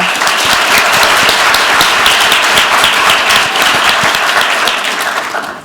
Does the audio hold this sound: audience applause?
yes